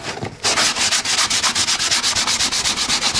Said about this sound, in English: Try a bit of sandpapering just down that part.